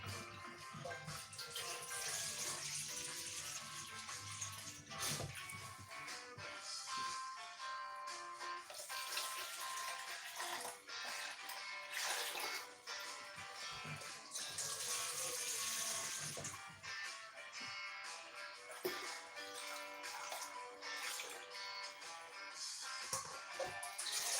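Water running steadily into a container on a kitchen scale, 750 millilitres measured out for making white vegetable stock: a continuous, fairly even splashing pour that lasts throughout, with no talk.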